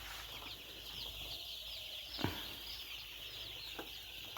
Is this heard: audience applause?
no